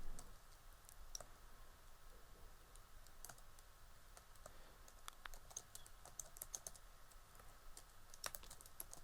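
Quiet, close clicking of a computer keyboard during data entry in Microsoft Excel, with irregular bursts of keystrokes scattered across the whole stretch and no talking.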